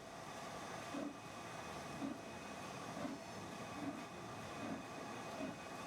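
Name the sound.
modern train running in video game Train Sim World 5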